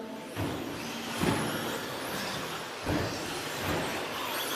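Electric 2WD RC stadium trucks race around a track, a continuous buzzing whine with several swells as cars pass close by, no voices.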